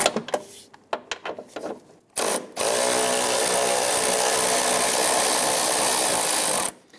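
A power tool backs out 13 mm bolts from the grille of a 1997–2006 Jeep Wrangler. A few sharp clicks come first, then a loud, close, continuous whir that runs for about four seconds before it stops.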